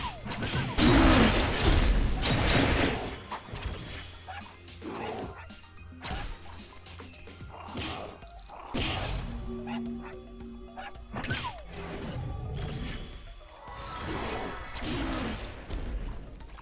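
Barking and yipping from a wolf in the online game Mabinogi, several sharp calls mixed with clanking combat effects and game sounds, fairly loud and busy throughout.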